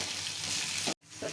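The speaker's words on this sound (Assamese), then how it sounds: "পিঁয়াজখিনি আধা ভাজা হোৱাৰ পিছত ইয়াতে মই এতিয়া দিম আদা নহৰু পেষ্টখিনি।" Onions frying in a pan as ginger-garlic paste is stirred in, a steady close sizzle that cuts out abruptly for a moment, then resumes with a fresh burst of scraping and hiss.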